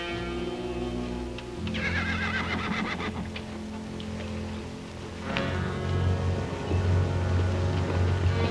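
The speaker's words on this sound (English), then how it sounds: "Tell Dobie to get the horses." Horses whinny loudly and repeatedly near at hand as hooves clip-clop around them, with restless stamping and shuffling running throughout and no speech.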